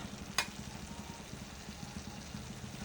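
Goat liver curry with pepper powder is stirred in a pan, giving a faint, steady low sizzle with soft scraping and one brief clink near the start.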